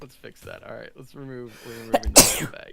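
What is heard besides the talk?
sneeze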